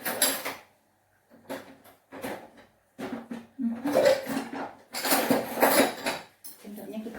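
A metal spoon scrapes raw fish flesh off the skin for pempek fish cakes. Repeated rasping strokes come in short bursts of varying length, close by, with brief pauses between them.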